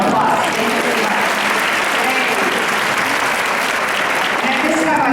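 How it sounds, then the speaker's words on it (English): A room full of people at a women's conference claps continuously, dense and even, for a few seconds. "Let's give everybody a round of applause."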